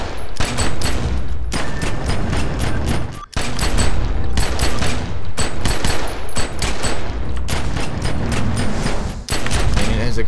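Pistol fire in The Secret World video game rattles in dense, rapid volleys almost without pause, loud and continuous beneath someone talking.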